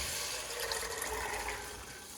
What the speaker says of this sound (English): I'm going to take all my beans that I've been soaking and pour them right in there.